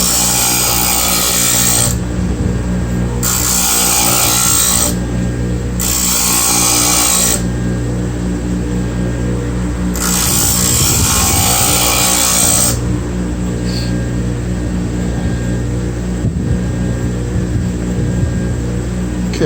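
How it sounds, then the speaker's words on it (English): A plane iron is hollow ground outdoors on a grinding wheel, a loud continuous whirring grind, steady throughout, with the pitch briefly shifting between passes and no talking. "That's all it takes to hollow grind an iron."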